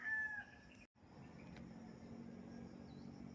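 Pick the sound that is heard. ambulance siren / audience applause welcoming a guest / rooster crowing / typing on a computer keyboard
rooster crowing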